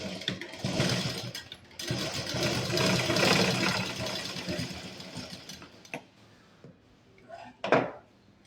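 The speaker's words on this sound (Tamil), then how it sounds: "இந்த இடத்துல ஒரு 1/2 இன்ச்சுக்கு நான் வச்சு தைச்சிக்கிறேன்" A sewing machine runs stitching a half-inch seam on an eight-panel cotton underskirt, a steady mechanical whirr for several seconds that fades, followed by a couple of brief clicks and handling knocks.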